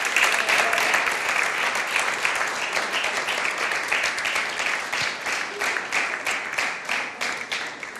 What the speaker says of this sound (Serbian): jedan veliki aplauz, molim vas, za orkestar gospodina Siniše Cvijetića